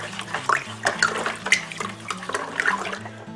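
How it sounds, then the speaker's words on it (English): A spoon stirs sugar into liquid in a wine-making vessel for a Chardonnay kit, producing rhythmic swishing and sloshing with light clinks, close and steady, with no talking. "we need to take our spoon and we need to just give it a good stirring until you dissolve all the sugar"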